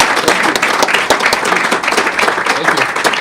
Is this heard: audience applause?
yes